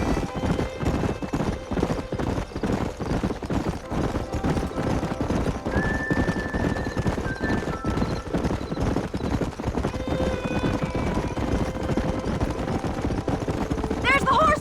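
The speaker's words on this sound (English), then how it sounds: "There's the horses!" Horse hooves clip-clop rapidly in a steady gallop, with occasional neighs and distant gunfire, all from the game Red Dead Redemption.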